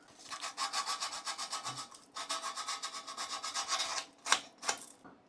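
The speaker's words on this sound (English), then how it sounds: "But I just got that sanded down some." Sandpaper rubs against a small trimmed piece from a Sega Master System USB-C mod, a steady run of rhythmic rasping strokes for about four seconds, then a pause and two sharper, separate scrapes.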